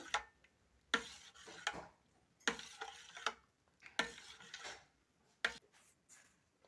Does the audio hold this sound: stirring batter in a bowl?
yes